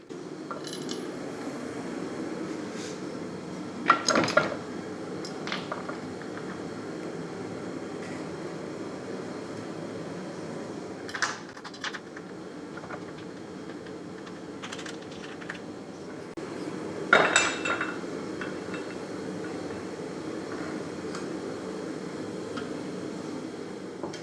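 Rounded steel piece clamped in a vise and flattened, a few sharp metallic clanks spaced several seconds apart over a low, constant background hum, without speech.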